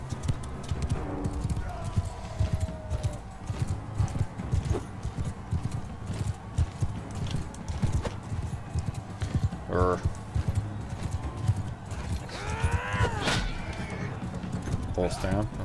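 Horses in the video game Mount and Blade 2 Bannerlord gallop with steady clip-clop hoofbeats, and a neigh rings out in the latter half amid battle noise and talk.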